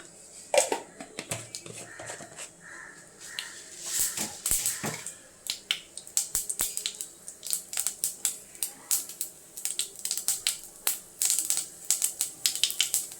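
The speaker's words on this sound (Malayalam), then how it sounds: "കടുക് പൊട്ടിക്ക്" Mustard seeds crackle in hot oil, sharp irregular pops starting sparse and then snapping rapidly in a busy burst.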